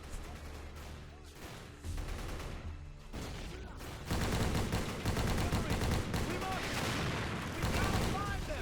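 Dense video-game gunfire in a Medal of Honor Pacific battle, rapid bursts and shots layered with explosions and rumbling, growing louder and more intense partway through, continuous throughout.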